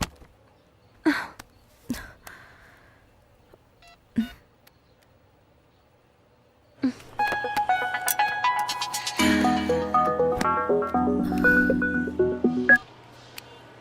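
After a few soft clicks, a rapid series of telephone keypad tones beeps close by, one after another for several seconds.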